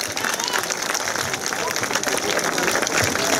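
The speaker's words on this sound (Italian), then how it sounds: "Facciamogli un forte applauso" A crowd at a castle inauguration in Cleto, Italy, gives sustained, dense applause, a steady wash of many hands clapping with some voices mixed in.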